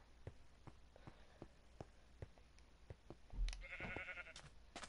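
Sheep bleat in the Minecraft game, a brief harmonic call near the end standing out over a quiet background of soft clicks and footstep-like taps.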